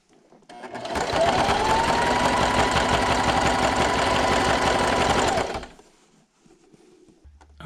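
Sewing machine stitching binding onto a table runner, a fast steady mechanical whirr that starts after a second, runs about five seconds close and loud, then stops into quiet handling noise.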